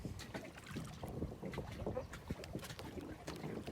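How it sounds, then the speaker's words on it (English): A kayak paddle skims the water in light, steady strokes, giving soft splashes and dribbles over wind noise outdoors. "Yeah, just skim the water. You don't have to go real deep or paddle too hard."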